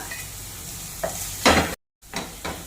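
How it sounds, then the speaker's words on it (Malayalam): Sliced onions sauté with a pinch of salt in a pan, with a steady soft sizzle broken by a few scraping stirs, close up and with no one talking. "സവാള ഇട്ടിട്ട് ഇതിലേക്ക് നമ്മളൊരു ശകലം ഉപ്പും കൂടെ ചേർത്ത് കൊടുക്കാവേ"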